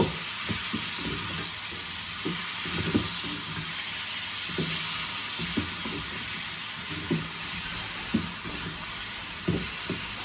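A little water from rinsing a jaggery plate goes into a pan of amla pickle and is stirred, leaving a steady broadband sizzle with repeated scraping strokes of the spoon against the pan. No one speaks.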